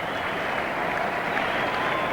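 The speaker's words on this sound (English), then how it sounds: "a big ovation from this capacity crowd" A sellout cricket crowd at the Gabba during a 1993 Australia versus South Africa match gives sustained, dense applause, a steady roar of clapping throughout.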